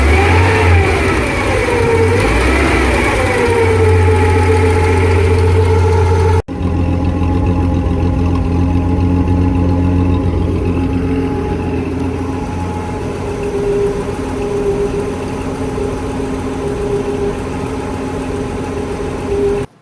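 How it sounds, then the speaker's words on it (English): A 1966 Ford Econoline van engine runs loudly and close, revving briefly before a sudden shift to a steadier, lower idle that hums along evenly to the end. "But the engine is purring along."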